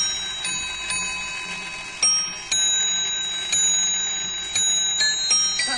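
A handmade clock built from scrap chimes the Cat and the Mouse tune, a run of bright metallic bell strikes spaced about half a second to a second apart, each ringing out and decaying, close and clear with no talk.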